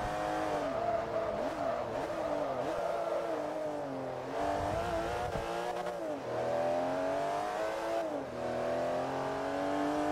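Race car engine in Forza Motorsport 3, a 400 hp car on track, revving and shifting steadily through gears for the whole stretch, loud and close, with brief tyre squeal.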